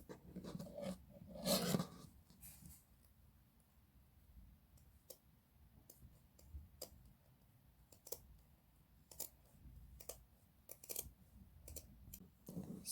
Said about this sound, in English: I'm going to cut where I put this little mark with my scissor.